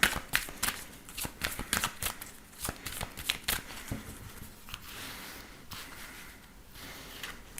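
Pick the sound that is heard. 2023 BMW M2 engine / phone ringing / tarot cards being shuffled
tarot cards being shuffled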